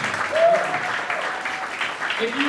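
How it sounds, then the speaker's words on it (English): Audience applause at an Andrew Yang town hall at Iowa Wesleyan University, a steady wash of clapping from a crowd with a few voices and whoops rising over it throughout. "Give another round of applause for the next President of the United States, Andrew Yang."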